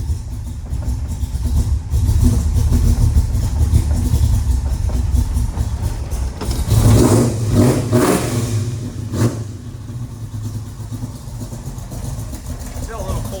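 A 1969 Chevrolet Camaro Yenko tribute with a 427 big-block V8 and four-speed runs steadily up close, still a little cold, with its low rumble swelling into a couple of louder revs midway.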